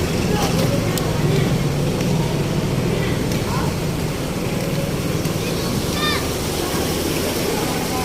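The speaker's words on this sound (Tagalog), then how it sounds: "bulwak talaga yung tubig guys" Water gushing from a burst Maynilad water pipe, a steady loud rushing spray on a street, with voices and children heard under the constant noise.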